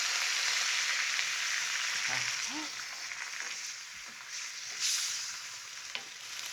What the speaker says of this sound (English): we'll deglaze those delicious flavors of the pan with some wine